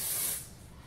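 Charme hair spray misting onto curled hair in a short, close, loud hiss that fades within half a second.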